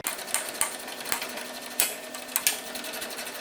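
A wrench turns the nut on a sway bar end link of a 2005-2015 Toyota Tacoma front end, giving a rapid, steady run of close metallic ratcheting clicks with a few sharper ticks.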